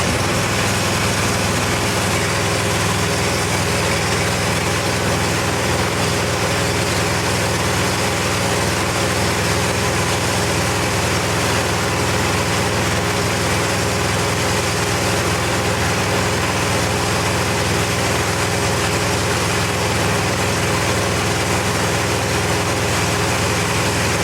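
A machine runs a chemical injector test, giving off a steady, loud, unbroken mechanical drone with a hum underneath and a hissy, broadband wash throughout.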